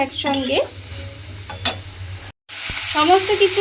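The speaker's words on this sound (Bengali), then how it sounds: "আলুটাও দিয়ে কিন্তু আবারও খুব ভালোভাবে এইভাবে একটু কষিয়ে নেব।" Potatoes fry with spices in a pan while being stirred, a moderate sizzle with metallic scrapes and clinks of a spoon, a voice speaking over it throughout and a short gap partway.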